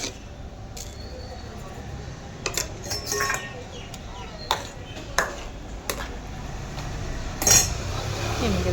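Metal spoon clinking and scraping against a pan while stirring tomato chutney, with sharp intermittent pings and taps over a low background hiss.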